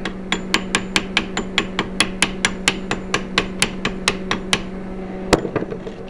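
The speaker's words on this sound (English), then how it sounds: "Chip as much of the slag out as I can before I do any more welding." A hammer chips welding slag off a weld during repairs to a Page-Lewis Arms Model D rifle, striking in a steady run of about twenty sharp metallic taps with one harder blow near the end, over a low constant hum.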